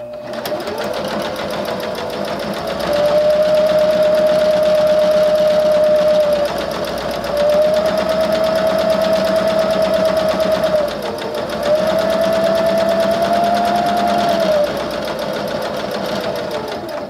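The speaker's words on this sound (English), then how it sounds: "now we're at the machine and we're just going to do a top stitch all the way down on both sides" A sewing machine top stitches down both sides of a fabric wristlet keychain, a loud steady motor whir that rises into three longer, faster running bursts between slower stretches.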